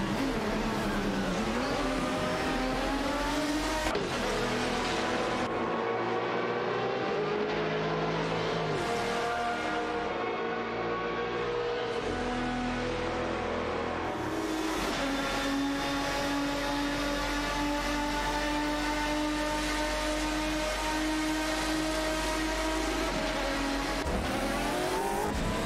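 Race cars scream around a track in a racing video game, with continuous high engine whine, shifting pitch as they rev and change gear, plus brief tire squeal, loud and steady with no speech.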